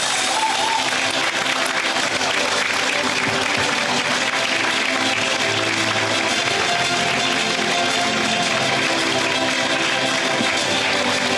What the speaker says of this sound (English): Big round of applause for Sujata.